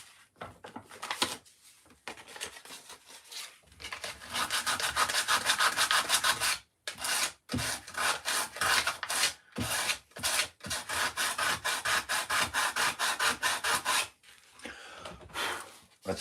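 Carved wooden leaves on a birdhouse being smoothed, with long runs of steady rasping strokes against wood broken by short pauses, close and alone.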